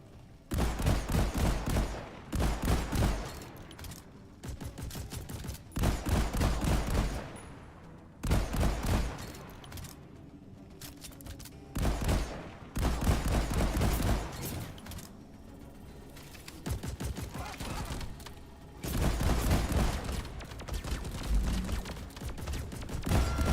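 Repeated shotgun blasts in the video game Deep Rock Galactic, firing in loud, dense bursts of rapid shots separated by short pauses, with continuous battle noise throughout.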